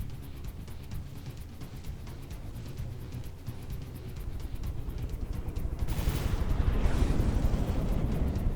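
Missile explosions in the video game From The Depths make a dense, continuous rumble of distant blasts and gunfire that swells louder toward the end.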